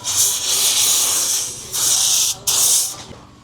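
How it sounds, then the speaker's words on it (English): Handheld steamer hissing onto aftermarket leather seat covers in a 2021+ Ford F150 to smooth wrinkles, loud close bursts of spraying steam with brief pauses between them. "When there's wrinkles on the seats, you add some steam on it and it helps remove them."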